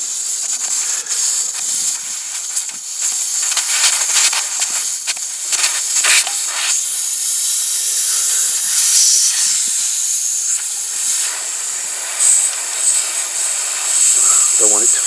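Air hissing steadily out of a Suzuki Burgman scooter tyre through the opened valve stem, a continuous broadband hiss lasting throughout, fairly close with no talk.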